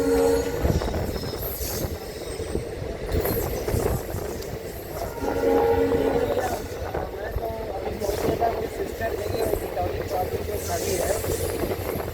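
A train grinds to a halt on worn rails, with a continuous metallic rumble, clanking and squeal from the wheels, a horn-like tone near the start, and voices talking nearby.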